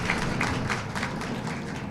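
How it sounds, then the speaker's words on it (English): A crowd at a mayoral Earth Day executive order signing gives a warm round of applause, a moderate, somewhat distant patter of clapping with a few distinct nearer claps, steady over a low room hum. "let's give a warm round of applause to Emily for the leadership"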